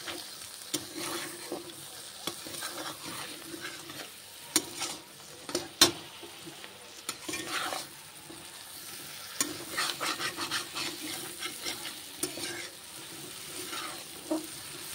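Eggplant and slit green chillies frying together in fish oil for a chorchori, a continuous sizzle broken by repeated spatula scrapes and stirring clatters, fairly quiet and with no voices.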